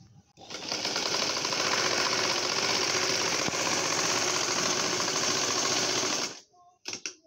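A sewing machine stitches along the bottom edge of cloth for a round baby frock, running in one fast, steady whirring burst of about six seconds before stopping abruptly, followed by a few faint handling clicks.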